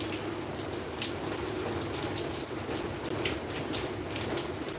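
Rain falls outdoors over crop containers in a field, a dense, even hiss of drops pattering on surfaces that holds steady throughout with no voices.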